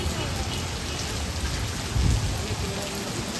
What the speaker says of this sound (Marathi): अति पाऊस आला म्हणून थांबलो